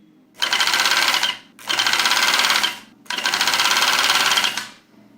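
A home overlock machine stitching a tension test sample runs in three loud, even bursts of about a second each, separated by brief pauses, with a rapid mechanical chatter and no talking over it.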